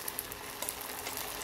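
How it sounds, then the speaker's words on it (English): Batter-coated cauliflower florets fry in hot oil for a Gobhi Manchurian, a faint, steady hiss dotted with small crackling pops. "Whenever you are dropping this floret in the oil, make sure it is covered with this batter properly."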